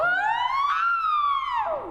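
A singer's voice imitates a siren during a voice lesson, a clear sustained tone sliding smoothly up from low to high and then dipping back down, close and alone.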